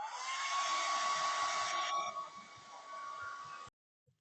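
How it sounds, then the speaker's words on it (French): A hair dryer blows on cleaned Nintendo console parts, a steady close whooshing roar with a high whine that drops in intensity before switching off abruptly. "un petit coup de séchoir"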